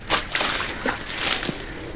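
Buckets of water are thrown onto a car, giving several short close splashes and sloshes over two seconds.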